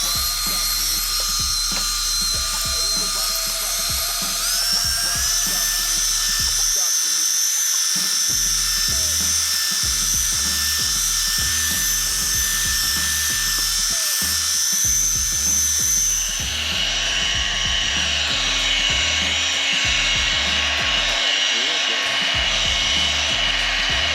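A polisher buffs a concrete bathroom countertop with a steady, high-pitched motor whine that shifts in pitch partway through, loud and continuous with no talking.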